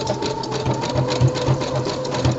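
A serger sewing machine stitches fabric with a steady, fast mechanical whir and a rhythmic pulsing chatter, close and continuous with no voice.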